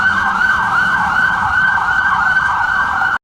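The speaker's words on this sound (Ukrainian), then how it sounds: "Пожежна машина виїхала з депо і мчить просто в центр міста." A loud, wailing fire engine siren sweeps up and down in steady cycles, close and continuous, cutting off abruptly at the end.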